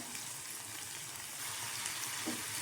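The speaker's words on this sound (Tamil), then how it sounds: "இப்போ தக்காளி சேர்த்து நல்லா வதங்கட்டும்" Tomatoes sautéing in a pan with onion, ginger and garlic for a black chickpea kulambu give a steady, close frying sizzle that runs unbroken, with a faint stir near the end.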